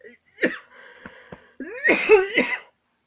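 A handful of short, close coughs in quick succession, the last ones rougher and more voiced, with silence between.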